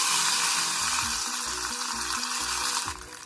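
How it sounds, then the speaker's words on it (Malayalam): Mustard seeds, dried chillies and curry leaves sizzle and crackle in hot coconut oil, a steady, fairly loud hiss running throughout with low rumbling underneath, alone without talk. "അതിലേക്ക് കടുകും വറ്റൽമുളകും കറിവേപ്പിലയും ഇട്ട് കൊടുത്തിട്ടുണ്ട്."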